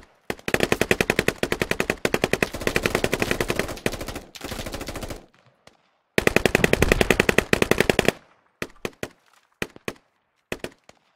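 Gunfire in the video game Squad: long rapid automatic bursts crack loudly and close, broken by short pauses, then a few scattered single shots trailing off.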